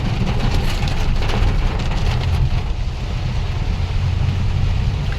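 Heavy rain pours down outdoors near waterlogged farm fields, a dense, loud, continuous hiss with a low rumble underneath.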